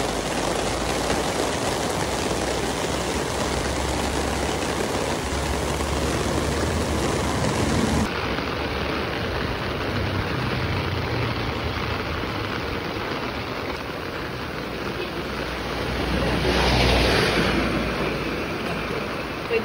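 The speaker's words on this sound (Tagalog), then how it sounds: "Ulan." Rain falls steadily on a Philippine afternoon, a continuous close hiss and patter that stays even throughout and swells slightly near the end.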